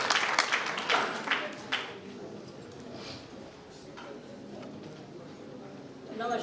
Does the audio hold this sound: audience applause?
yes